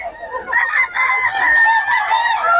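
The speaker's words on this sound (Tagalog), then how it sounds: "Manok ni Boss Gaga." A rooster crows loudly and close by at a crowded cockfighting-bird gathering, one long drawn-out call that carries a harsh, strained tone throughout.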